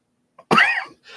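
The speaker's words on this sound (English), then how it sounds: "Oh God, this fucking cough." A single harsh cough from someone with a lingering cough, close and loud, followed by a faint breath.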